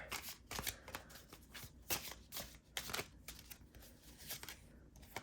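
Tarot cards shuffled and pulled from a deck at a reading table: steady, close riffling and papery flicks with sharp card snaps throughout, fairly quiet and without voices.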